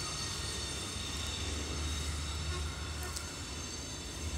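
A train rolling past close by, a steady heavy low rumble of railcars with faint metallic squeal, continuous for several seconds while someone talks over it.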